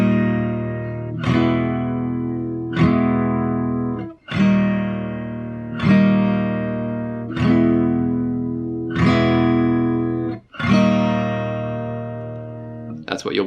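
Fingerstyle acoustic guitar playing an arrangement in alternate tuning, alone and close: about eight evenly spaced plucked chord patterns, each ringing out and decaying before the next.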